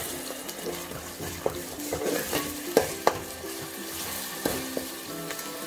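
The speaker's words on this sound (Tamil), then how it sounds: "இஞ்சி பூண்டு பேஸ்ட்டை போட்டுருங்க" Ginger garlic paste frying with onions in a pan for homemade chicken biryani, a steady close sizzle with scattered stirring clatters and scrapes, no voices.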